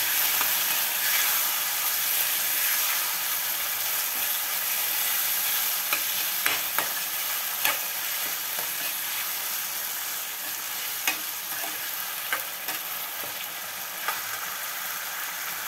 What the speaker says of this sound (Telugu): ఆనపకాయ ముక్కలు వేసుకుందాం. పచ్చివాసన పోయే వరకు వేయించుకుందాం.